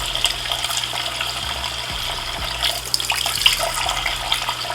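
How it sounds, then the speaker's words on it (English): A tap runs steadily while a makeup brush is rinsed under colder water and moved back and forth on a hand, a close, continuous splashing stream with slight shifts as the bristles move through it. "run some colder water and move it back and forth on my hand"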